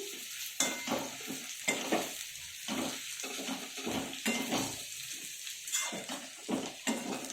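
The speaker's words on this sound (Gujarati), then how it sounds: "હવે એને થોડુંક આપણે શેકાવા દઈશું." Torn pieces of leftover roti roast in a pan for vaghareli rotli, with a soft sizzle under repeated scraping stir strokes of a spoon against the metal, fairly close and continuous.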